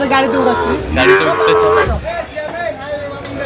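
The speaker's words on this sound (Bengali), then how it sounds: "বেশ সুন্দর গরুগুলো সংগ্রহ করছে মোমেন ভাই" Cattle moo loudly and repeatedly at a busy livestock market in Feni where young bulls and heifers are sold, the calls close and drawn out, with a faint murmur of people in the background.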